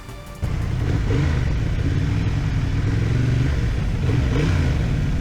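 A 2025 Honda CB750 Hornet being ridden, its engine cutting in loudly after a quieter start and holding a steady mid-pitched drone with wind and road noise, no talking.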